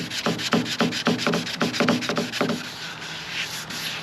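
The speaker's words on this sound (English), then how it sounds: "Sand at different angles, sometimes a little diagonally." Cracked boat gelcoat wet sanded by hand, a close series of quick rhythmic rasping strokes that slow and thin out toward the end, with no talking.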